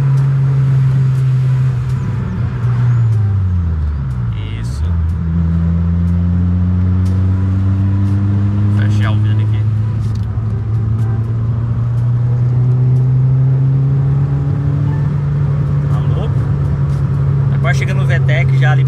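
A Honda Civic Si engine revs up hard toward VTEC, its close, continuous drone climbing steadily in pitch over nearly twenty seconds, with a brief dip midway before rising again.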